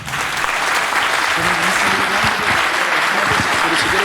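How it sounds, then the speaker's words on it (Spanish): Loud, sustained audience applause closes a public conversation event, a thick wash of many hands clapping evenly throughout. "Un aplauso."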